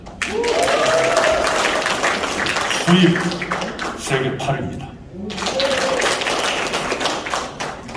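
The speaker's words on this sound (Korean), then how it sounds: "이게 박수 칠 일인지 아닌지 모르지만" Audience applause at a political supporters' forum launch rally, a dense sustained clapping wash filling most of the stretch and dipping briefly midway, with a speaker's voice talking over it.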